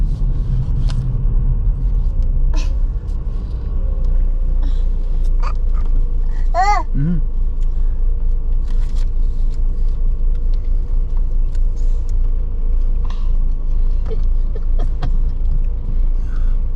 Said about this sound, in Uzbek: Mana mashinalar qarang.